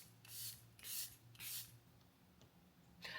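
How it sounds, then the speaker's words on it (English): Charlotte Tilbury Airbrush Flawless setting spray misted close up: three quick hissing sprays in a row, a pause, then a fourth burst, all quiet. "I'm gonna use the Charlotte Tilbury Airbrush Flawless Setting Spray"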